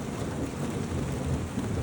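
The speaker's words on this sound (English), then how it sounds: "in a storm" A thunderstorm in the Ouachita Mountains, steady dense rain with a low rumble of thunder underneath, loud and continuous without voices.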